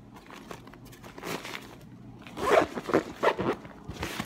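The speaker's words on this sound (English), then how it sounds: "let's get this zipped up" On a Reform action camera backpack, a zipper draws a small front compartment shut in a few quick, scratchy pulls that get louder toward the end, close by and with no talking.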